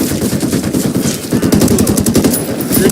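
Sustained automatic gunfire in the Ghost Recon Wildlands video game, rapid loud bursts of shots firing in quick succession, close and continuous throughout.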